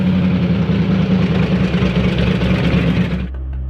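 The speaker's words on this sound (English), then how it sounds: "It's a 1968 Dodge Charger. Has a 440 engine, which has been bored and stroked to about a 451." A 1968 Dodge Charger's 440 V8, bored and stroked to about 451 with a supercharger, idles loudly and steadily nearby, its low throb rumbling evenly for a few seconds before dropping to a quieter hum.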